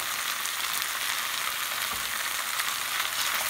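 Browned meatballs with red peppers and carrots cooking in a pan while being mixed. A loud, continuous, dense sizzle holds steady throughout, close up, with no talking.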